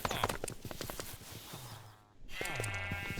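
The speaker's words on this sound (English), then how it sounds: "What is the sheep? Anyway. Sheep are weird." Sheep bleating in a Minecraft FTB modpack game world, two separate wavering bleats with a short silent gap between them, clear and close with no talking.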